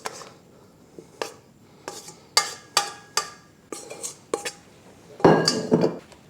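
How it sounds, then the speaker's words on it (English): A scraper knocks and scrapes against a lightly greased bowl as cinnamon roll dough is turned out into it, about ten separate clacks and clinks close by, ending in a longer rough scrape, with no talk. "Scrape the dough into the bowl."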